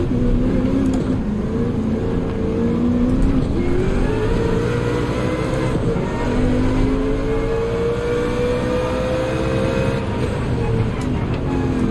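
Race car engines drone steadily with rising and falling pitch as cars pass on a straight, with a Sauber in Gran Turismo, loud and continuous throughout, with no talking.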